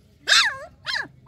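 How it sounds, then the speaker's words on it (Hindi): Puppies give three short, close yelps and whimpers, the first loudest and longest, the others quicker and higher. "उसके कुत्ते बच्चे।"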